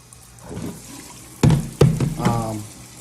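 Water splashes and pours into a measuring cup nearby, a steady filling sound that rises in pitch as it continues, with a couple of knocks.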